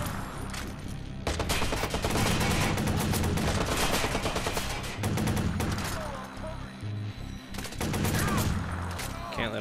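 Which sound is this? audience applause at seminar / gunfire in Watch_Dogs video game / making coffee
gunfire in Watch_Dogs video game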